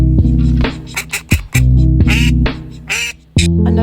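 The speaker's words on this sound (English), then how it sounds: "females have a much more loud and aggressive quack" A female duck at a campus duck pond gives a run of loud, harsh, aggressive quacks in quick irregular bursts, close and prominent with no talking.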